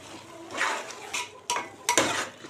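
A spoon stirs mushroom biryani masala with yogurt in a cooking pot, making a few soft scraping strokes and light metallic clinks close by, with faint sizzling underneath.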